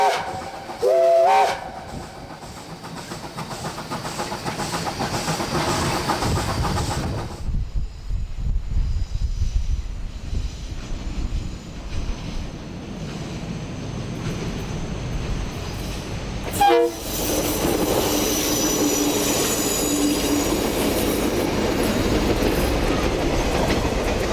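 A nine-carriage passenger train runs on a New Zealand line with loud rolling rumble and clickety-clack of wheels on rails, broken by short horn blasts near the start and again later, close and continuous.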